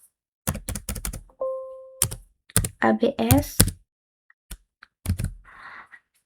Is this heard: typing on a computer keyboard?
yes